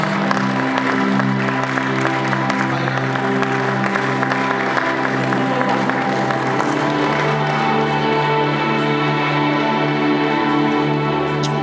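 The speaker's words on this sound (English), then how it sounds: "Please, a round of applause for her." Audience applause at a film festival closing ceremony in Enugu, steady broad clapping sustained for the full length, with a tonal musical bed running underneath and no talk over it.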